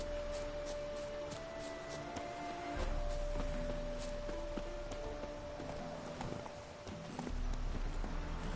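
Horse hooves clip-clop at a gallop in The Witcher 3 video game, a steady rhythmic pounding against a humming music-and-ambience backdrop.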